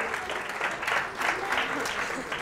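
Audience applause on the Catalan TV quiz show Pica Lletres, a steady, moderately faint clapping that runs through the whole moment with a voice talking over it.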